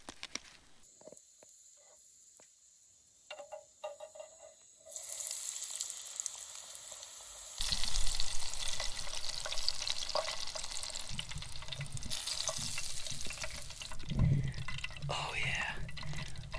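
Arctic grayling fish and chips frying in oil, quiet clinks and handling at first, then a loud steady sizzle rising as pieces are turned, with a brief voice.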